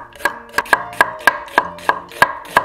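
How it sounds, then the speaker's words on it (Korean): A knife chops one onion into thin strips on a board, giving nine sharp, evenly spaced cuts that ring out close and clear with no talking. "그리고 양파 1개는 채 썰어 준비해주세요"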